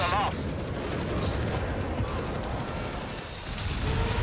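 Nebelwerfer rocket artillery fires in a Company of Heroes 3 battle, with dense rumbling salvos and bursts rolling on without a break, mixed under other battlefield noise and a commentator's voice.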